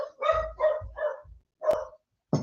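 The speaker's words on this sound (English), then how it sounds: "the dog's barking as usual." A dog barks loudly and close by, giving four quick, evenly spaced barks, then a pause before a fifth bark and a short final yelp, with no talking.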